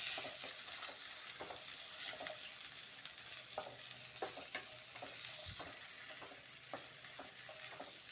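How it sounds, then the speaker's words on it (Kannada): Chopped onion and green chili fry with mustard seeds in a pan for drumstick leaf and horse gram upsaru, giving a steady close sizzle with scattered pops, crackles and a few scrapes of stirring. "ಸಾಸಿವೆ ನಂತರ ಈರುಳ್ಳಿ, ಮೆಣಸಿನ್ಕಾಯಿ ಹಾಕಿ ಸ್ವಲ್ಪ ಫ್ರೈ ಮಾಡ್ಕೊಳ್ಳೋಣ"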